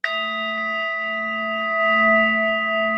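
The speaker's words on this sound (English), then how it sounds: "Gong for you." A single gong struck once, ringing loud and close with a bright attack and a long, steady shimmering sustain that carries through to the end, no talking over it.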